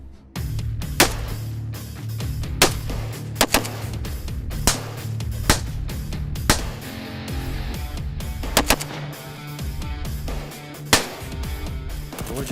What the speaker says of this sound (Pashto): مور جانې اورې که نه اورې ډزې نورې هم زیاتې شولې که نه